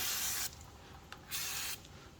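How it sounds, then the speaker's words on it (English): Brake cleaner sprayed from an aerosol can onto the hub of a Ford Model T: a steady hiss at the start, a brief tick, then a second hiss burst, with no talking. "Let's hook in with a bit of brake clean."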